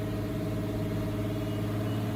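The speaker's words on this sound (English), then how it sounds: "It's idling really high though." A Nissan RB25DET inline-six fitted with R35 coil packs idles high and smooth, a steady, even engine hum with no pauses, heard close and alone.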